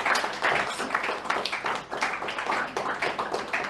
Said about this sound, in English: Let's clap for that beautiful question.